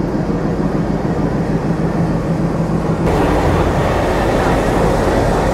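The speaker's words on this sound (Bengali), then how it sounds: "পঁয়ষট্টি সিরিজের যে লোকোমোটিভ ছিল, সেই লোকোমোটিভ আমাদের ট্রেন থেকে বিচ্ছিন্ন হয়ে চলে যাচ্ছে" A 65-series diesel locomotive uncouples from the Simanta Express and pulls away, a steady loud rumble of rail machinery that grows slightly louder and brighter halfway through, with no talking.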